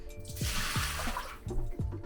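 Water pours and splashes into a small home water filter tank, a steady broad rush with a few drips and gurgles near the start and end, heard up close with no talk.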